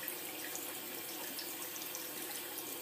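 Running water splashes and trickles in a sink while makeup brushes are rinsed, a steady close hiss of flowing water with no talking.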